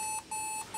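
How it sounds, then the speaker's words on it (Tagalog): A Lenovo T430 laptop under repair emits two short, clear electronic beeps at power-on, evenly spaced over a steady background hum, with no talk. "Nag-beep sound."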